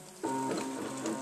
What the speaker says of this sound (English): And the entire bed moves. And watch the motor turn.